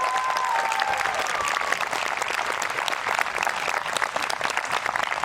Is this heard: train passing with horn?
no